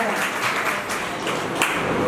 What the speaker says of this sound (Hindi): देखिए, तालियां